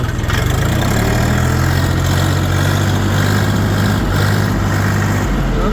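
A cheap beltless tractor with a KM 385 engine running close by, a loud, steady low diesel chug and rumble that holds even throughout with no speech.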